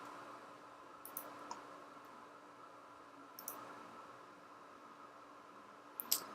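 A computer mouse clicks now and then while a floor plan is traced, single and double clicks spaced out over a quiet, faintly hissing room.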